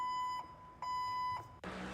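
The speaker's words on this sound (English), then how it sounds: "We pull out the old forklift beep here." A steady electronic tone beeps in short repeated pulses, like a forklift reversing alarm, in the iRacing sim racing game during a GT3 race at Mugello, ending as a burst of broadband noise cuts in.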